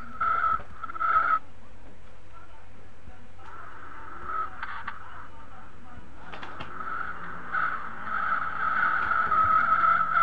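A drifting car in the Live for Speed racing game gives sustained tire squeal that rises and breaks off in several stretches over a steady engine drone, loud and continuous, with some talking underneath.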